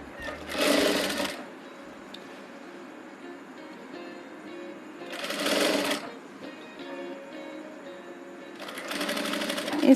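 A sewing machine stitches a sleeve onto a garment in three short rattling bursts of rapid stitching, with quiet pauses and soft handling noise in between.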